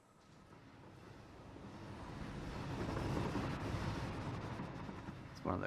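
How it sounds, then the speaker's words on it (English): Coal train in the factory-building game Satisfactory passing by, a broad rumbling roar that swells to a peak midway and slowly fades, with a brief louder clunk near the end. "One of the coal trains."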